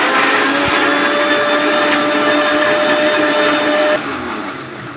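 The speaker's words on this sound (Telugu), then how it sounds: "దీన్ని ఇప్పుడు కొంచెం బ్లెండ్ చేయాలి." A mixer grinder blends sapota with sugar and milk into a shake, its loud steady whine running for about four seconds before the motor cuts and winds down.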